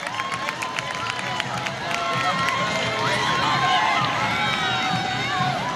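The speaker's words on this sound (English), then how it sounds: "how about a huge round of applause? Come on, let's make some noise." A parade crowd at a 17th of May celebration claps and cheers, rising from scattered applause into a fuller, louder roar of clapping and whoops, with an announcer's voice heard alongside.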